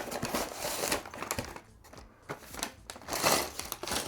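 Plastic parts bags from a LEGO Speed Champions Ferrari 499P set crinkle and rustle as they are handled, in irregular bursts with a brief lull partway through, close to the microphone.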